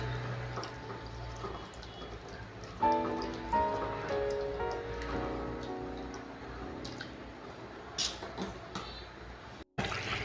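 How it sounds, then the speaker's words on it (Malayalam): Kerala-style fish curry with half a cup of added water bubbles and drips steadily in a pan, soft liquid popping and dripping throughout with a few brief clatters, and no talking. "നന്നായിട്ടൊന്ന് തിളച്ച് കിട്ടണം."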